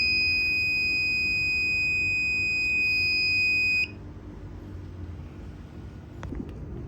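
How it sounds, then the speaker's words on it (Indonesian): A gas detector buzzer, set to trigger at 6000 ppm of gas, gives a steady high-pitched electronic tone for about four seconds and then cuts off abruptly, leaving a low hum. "kalau di sini akan ada terdeteksi gas yang berlebih sebanyak 6000 ppm dan buzzer akan aktif"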